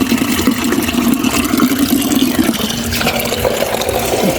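Steady water flowing out of a garden hose outdoors, after the tap outside was turned on to water transplanted flowers; a continuous, even wash of running water, fairly close, with no talking.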